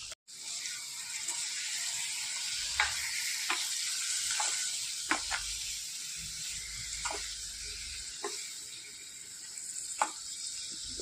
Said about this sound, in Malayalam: ഉള്ളിയെല്ലാം വഴറ്റിയെടുക്കുക നന്നായി.